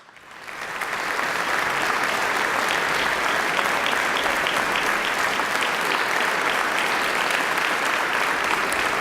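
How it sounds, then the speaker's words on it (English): Legislators in a parliamentary chamber give a warm round of applause for women in the gallery, clapping swelling quickly from quiet to a full, sustained roar of many hands. "I'd ask my colleagues to give them a warm round of applause"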